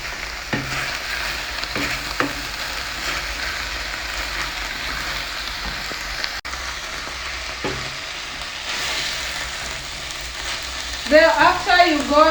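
Minced meat frying in a pan and being stirred, a steady close sizzle running throughout with occasional scrapes of the spoon against the pan.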